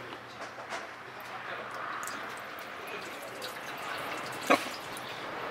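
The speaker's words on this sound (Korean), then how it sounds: "이거는 경유가 아니라 물이 흘러나오고 있어요." Urea solution drips out of a diesel fuel filter in a quiet trickle, with a few soft drops and one sharper splash near the end.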